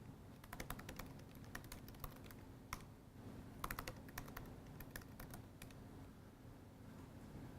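Someone types on a computer keyboard, with faint, irregular bursts of clicking keystrokes in a quiet room and a few slightly louder taps.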